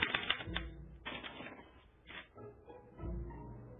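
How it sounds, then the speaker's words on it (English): A special typewriter clatters in rapid bursts of mechanical keystrikes as it prints out a punch card, with short pauses between runs and no voices. "they're relayed to this special typewriter, which prints out a punch card that represents the subject's mind map"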